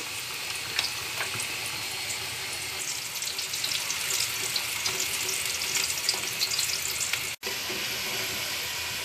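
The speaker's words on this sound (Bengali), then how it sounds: "আমি এখন ধোকা ভাজার তেলে আলু এবং সিমের বিচিগুলো ভেজে নেব।" Potatoes and bean seeds frying in the oil left from deep-frying dhoka, a dense, even crackling sizzle that holds steady and close, with one brief dropout near the end.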